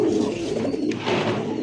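A pair of chocolate-faced pigeons at a bird exhibition coo in soft, low, throaty rolls that carry on steadily at close range through the short stretch, with faint background noise.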